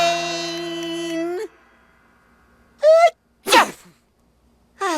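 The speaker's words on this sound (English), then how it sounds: "Sneeze if you have to." A single loud sneeze bursts out in a cartoon scene, sharp and close, with a brief gasping intake just before it; a sung line and some voiced sounds surround it amid otherwise quiet gaps.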